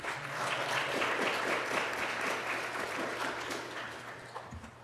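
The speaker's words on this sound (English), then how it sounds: "Stand up and get a round of applause." Steady audience applause at a scholarship awards ceremony, a dense wash of many hands clapping that holds at an even level for about five seconds, with a low steady hum underneath.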